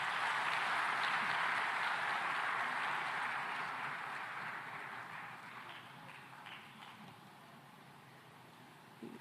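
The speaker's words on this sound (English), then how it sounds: "let's give them a fantastic round of applause." Large audience applause at a food security summit, loud and dense at first, then gradually thinning and fading over several seconds to scattered claps.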